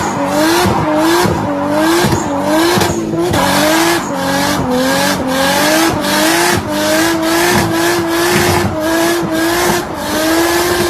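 A 360hp Nissan R32 GTST with an RB22DET engine skids through a drift, tires squealing in a wavering whine over a loud, steady engine roar, sustained and close throughout.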